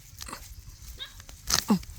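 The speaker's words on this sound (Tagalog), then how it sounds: "Yan, kahol ng kahol." A dog gives a couple of short, fairly close barks near the end, after a stretch of quiet rustling and soft speech in Filipino.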